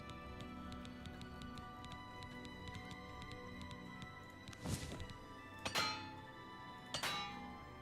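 Metallic repair-hammer clinks from the Oblivion Remastered video game, three sharp strikes spaced about a second apart near the end, over a steady bed of game music.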